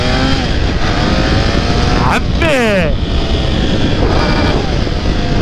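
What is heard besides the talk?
new motorcycle engine roar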